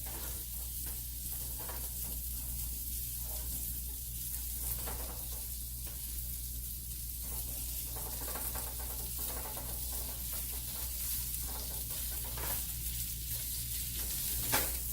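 Beef patties fry in Imperial margarine in a home kitchen pan, giving a steady, close, continuous sizzle with faint crackles and occasional stirring scrapes, no talking.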